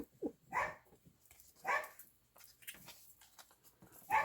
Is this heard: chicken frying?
no